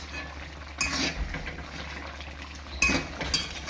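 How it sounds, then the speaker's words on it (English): Carrots tossed into a pot of Jamaican brown stewed goat meat or mutton, heard as two short clattering clinks against the pot with quiet pauses between, and no talking. "I'm gonna toss in my carrots all over in the pot"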